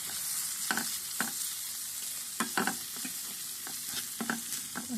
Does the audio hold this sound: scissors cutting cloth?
no